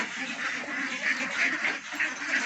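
A crowded flock of ducks at Kottathara Farm and Nursery in Ponnani quacks nonstop, a loud overlapping chorus of raspy calls close by with no gaps.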